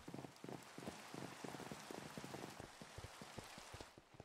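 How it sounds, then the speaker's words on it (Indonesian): Steady rain pattering down in the blocky video game Minecraft, a dense continuous hiss with many small drop taps, fairly close and alone with no talking, easing slightly at the very end. "Duh, tapi enggak asik banget liburan hujan gini."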